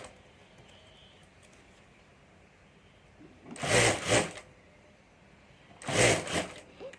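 A sewing machine runs in two short bursts, stitching a zip onto a handmade hand bag beneath a strap, separated by a quiet stretch of faint room noise.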